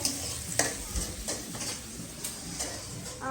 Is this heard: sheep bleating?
no